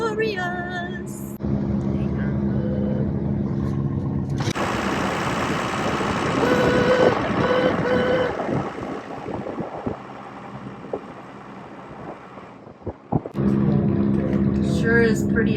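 A car engine drones steadily while climbing a mountain road on a cold winter morning near Lake City, Colorado. The close hum holds for most of the stretch, with some tonal sounds and a few brief knocks toward the end.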